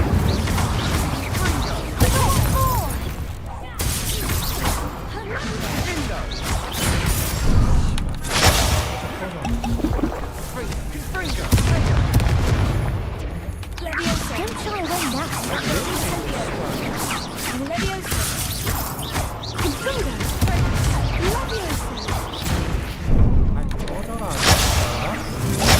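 Incendio and Confringo spells are cast repeatedly in Hogwarts Legacy, producing a busy run of whooshing blasts and crashing impacts that continues throughout, with a person speaking over the action.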